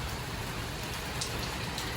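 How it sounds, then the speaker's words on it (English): Rain falling during a thunderstorm, a steady, dense hiss of drops on surfaces over a soft low rumble, with no talking. "raining and thundering a little"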